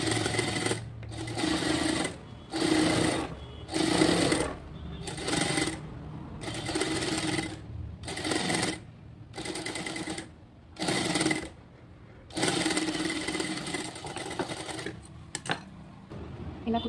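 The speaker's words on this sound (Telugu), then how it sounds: "డోరీకి సన్నగా కుట్టేసుకోవాలండి." A sewing machine runs up a narrow seam along a thin strip of folded cloth, its rapid mechanical chatter coming in repeated bursts of one to two seconds with brief stops between them, close and loud.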